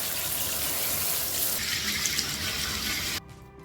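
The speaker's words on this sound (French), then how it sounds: "C'est parti pour le rinçage." Tap water runs steadily while chestnut-chocolate hair dye is rinsed out of hair at home, a loud, close, hissing stream that cuts off abruptly near the end, leaving near silence.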